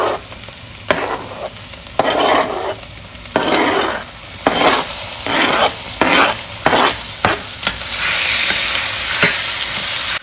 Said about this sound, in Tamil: லிவர் போட்ட உடனே நல்லா ஃப்ரை பண்ணுங்கள்.